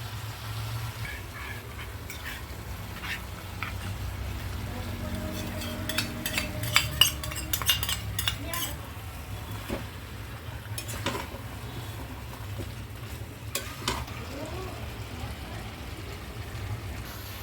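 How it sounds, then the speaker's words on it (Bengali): Ginger garlic paste going into frying methi chicken in a home kitchen, with a low steady sizzle under scattered clinks and scrapes of a spoon stirring in the pan, close by, and a voice speaking intermittently. "এবার আমি দেবো এখানে আদা রসুন বাটাটা দিয়ে দিচ্ছি।"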